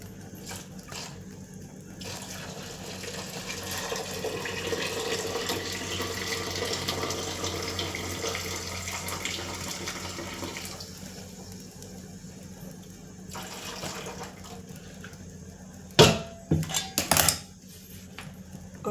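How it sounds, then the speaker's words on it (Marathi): Water is poured off boiled cauliflower in a home kitchen, a soft steady rush of draining water lasting several seconds, followed by a few sharp clinks of utensils near the end. "पाणी काढून घेऊयात."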